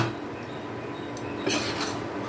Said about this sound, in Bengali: এখন আমি ঢাকাটা তুলে দিচ্ছি